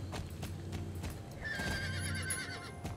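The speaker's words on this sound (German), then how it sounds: "wir reiten wieder einen super tollen Weg" Horse hooves clip-clop in a steady rhythm during a cross-country ride in the video game Star Stable, with a brief whinny-like tone partway through and no talking.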